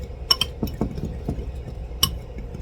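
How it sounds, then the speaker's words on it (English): A utensil mixes flour into sourdough in a bowl, making soft thumping strokes and a few sharp clinks against the bowl at close range. "So mix this up good in with this flour."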